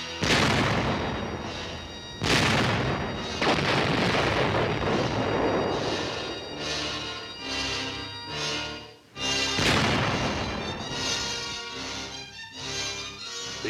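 Explosions roar in a series of heavy booms with long rumbling tails, each blast surging loud then decaying before the next, set in a tank warfare training scene.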